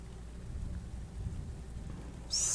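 Steady rain falls outside with low rumbling thunder underneath, a continuous wet wash that brightens into a sharper hiss near the end; no talking.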